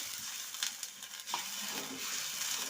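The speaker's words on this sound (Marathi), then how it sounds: "तेलामध्ये पाणी टाकून घ्यायचं" Water poured into hot oil for a village-style gram-flour pitla sizzles steadily, with a broadband hiss and a few brief bursts of spattering, close up and with no voices.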